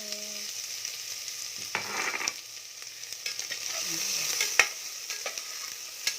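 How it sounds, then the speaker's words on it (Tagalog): Garlic and onion being sautéed in a pan: a close, crackling sizzle of oil with scraping stirs and a few sharp clanks of a utensil against the pan, steady throughout without talk. "Ayan, igisa natin yung bawang. Pati yung sibuyas."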